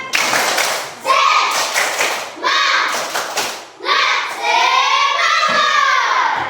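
Children doing a rhythmic spirit clap (tepuk semangat) in a classroom, loud bursts of clapping in quick patterned groups with brief pauses, mixed with children's voices chanting along.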